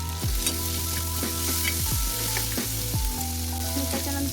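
Green peas drop into a pan of frying tomato masala for a green peas curry, setting off a strong steady sizzle punctuated by several scraping stirs, close and without voices.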